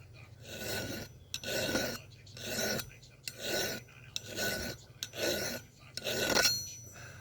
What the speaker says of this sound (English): That's why I got the file, so I could cut it out.